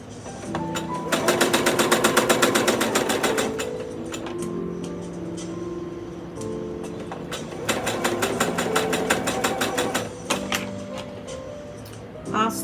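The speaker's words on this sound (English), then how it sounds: "just sewing your 1/4 inch from the edge" Sewing machine stitching a quarter-inch seam on a table runner, with rapid mechanical clatter in two main bursts separated by a pause; a person talks between and over the runs.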